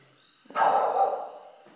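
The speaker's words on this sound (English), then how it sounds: "The dogs are barking like crazy because now everyone's sleeping." A dog barks once in a sustained burst, close and fairly loud, at around 2 a.m. outdoors with the night quiet around it, beginning after a short hush and fading back down.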